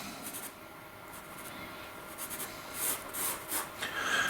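A pencil sketches a Mayan temple on paper in quiet, soft scratching strokes, faint and close, with short bursts of quicker shading.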